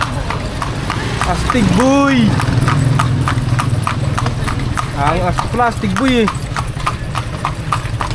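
A horse pulling a kalesa in Ilocos, its hooves clip-clopping in a steady, close rhythm throughout, with a whinny-like call partway and people chatting over it.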